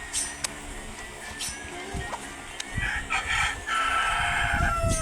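A rooster crows faintly in the distance amid outdoor background noise, with a few sharp knocks and scattered sounds nearby.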